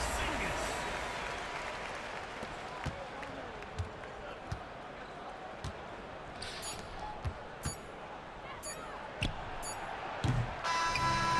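A home crowd cheers and applauds after a win in NBA 2K25, a steady mid-level roar with scattered sharp thumps like bouncing basketballs, under a commentator's voice.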